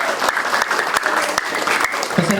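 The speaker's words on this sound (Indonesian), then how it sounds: "Tepuk tangan buat kalian semua." Audience at a Ramadan pesantren event breaking into applause, an even, sustained clatter of many hands with a few louder claps, a voice briefly rising near the end.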